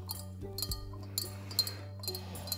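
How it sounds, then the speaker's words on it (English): A spoon stirs a hot toddy of rum, lemon juice, brown sugar, hot water and anise in a mixing glass, giving bright repeated glassy clinks over a low steady hum. "and stir for 60 seconds."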